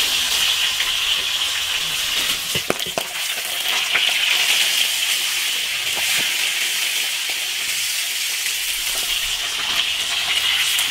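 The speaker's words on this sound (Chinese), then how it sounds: "煎到两面金黄，" Pig trotters frying in an iron wok, a continuous loud hissing sizzle with occasional sharp pops and spatters, steady throughout and close.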